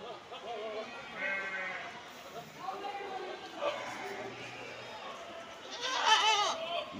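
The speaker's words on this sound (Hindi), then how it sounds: "खस्सी बकरे देखिए आप लोग, अंडुल भी है, खस्सी भी मिक्स है सब इसमें।" Goats bleating in the pens of the Deonar livestock market, several quavering calls at moderate distance, heard beneath someone talking over a busy market murmur.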